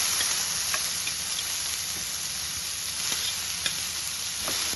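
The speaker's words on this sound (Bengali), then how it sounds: "টমেটো আর ক্যাপসিকামটা একটু সফট হওয়া পর্যন্ত আমি এটা ভেজে নেব।" Chopped tomato and capsicum fry in a pan for masala bread, giving a steady, even sizzle with a few faint scrapes and clicks from stirring, close and alone.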